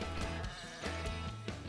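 Sheep in a flock bleat several times in close succession, loud and near, each call a wavering, nasal cry with no talking over it.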